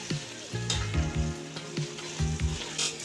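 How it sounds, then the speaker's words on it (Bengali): Bengali ash gourd shukto cooking in a pan with salt and sugar, stirred for about a minute, producing a steady close sizzle with rhythmic scraping and stirring strokes throughout and no speech. "দেখুন আমি 1 মিনিটের মতো নেড়ে চেড়ে রান্না করে নিয়েছি।"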